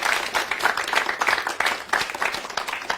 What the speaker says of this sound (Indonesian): Kita berikan tepuk tangan yang paling meriah sekali lagi.